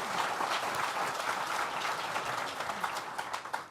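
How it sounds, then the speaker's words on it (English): A crowd at a Southern Tier village event applauds the mayor and his team, a steady, dense wash of many hands clapping throughout, with a few sharper claps near the end. "Another round of applause for Mayor Maney, the team that put this together."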